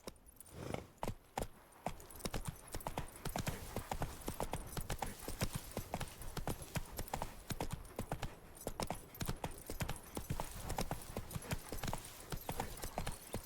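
Hooves of Geralt's horse Roach in The Witcher 3 pound in a fast, steady galloping clip-clop, close and continuous, with faint game ambience behind.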